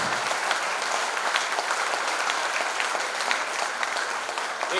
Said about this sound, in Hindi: एक बार दोनों हाथ उठाकर जोरदार तालियां बजाएं